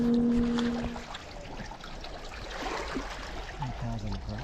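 Water trickling and draining out of a Sea-Doo XP jet ski that took on water through a badly leaking seat, a steady wash of splashing and dribbling heard close up after a brief tone, with faint background noise.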